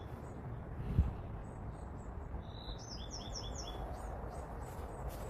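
Birds chirp outside on a fine day: a quick run of high, bright tweets in the middle, set a little way off against a steady hiss of outdoor background noise, with no talking.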